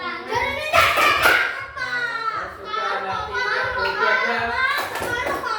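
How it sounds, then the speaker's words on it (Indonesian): A group of children in a school physical education class sings a clapping song together, their voices loud and close, with rhythmic bursts of hand claps on the beat. "Kalau kau suka hati tepuk."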